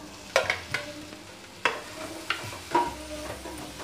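Chopped tomato being added to a pan of spices frying for watermelon rind curry, with a steady low sizzle under several sharp spoon scrapes and clinks against the pan; no talking.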